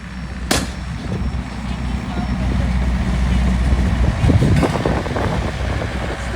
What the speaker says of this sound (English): And here comes the White Pass train we were on.